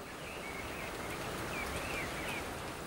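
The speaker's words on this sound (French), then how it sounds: "La pluie commence à tomber." Rain begins falling in the mountains, a soft, even hiss of drops pattering steadily on the ground, with faint high bird chirps now and then.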